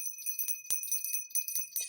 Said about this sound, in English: Just ring the bell for service and to chase out any negative energy